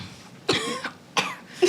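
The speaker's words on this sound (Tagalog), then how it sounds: "may umuubo dito" Three separate coughs from one person, each a short harsh burst spaced roughly half a second apart, close and clear in an otherwise quiet room.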